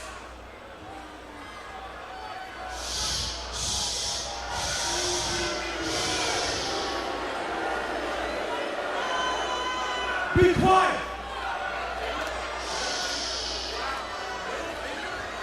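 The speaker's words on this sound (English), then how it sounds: "y'all are booing us as if we want to be here" A wrestling arena crowd boos and jeers in waves of loud, distant noise, swelling and fading beneath someone speaking forcefully into a microphone, with a sharp thump partway through.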